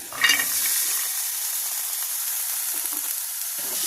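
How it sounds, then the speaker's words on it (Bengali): Green chilies, dried chilies and garlic fry in a hot wok. A brief rustle as they go in is followed by a steady, close, hissing sizzle that stays even throughout. "কড়াইটা আবারও অন করলাম এগুলা ভেজে নিব এখানে আছে কাঁচামরিচ শুকনা মরিচ আর রসুন"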